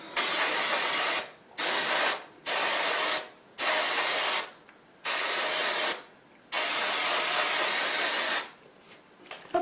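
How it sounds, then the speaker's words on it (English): L'Oreal Magic Root Cover Up hair root spray hisses out of an aerosol can in a series of short bursts, about six close, loud sprays separated by brief pauses. "I'm going to spray and back up because I hate the fumes"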